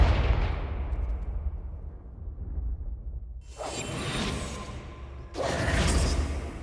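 Confringo blasting spell cast in a video game, a long swooshing burst that fades out, then two bright crackling blasts that each start abruptly, with no talking.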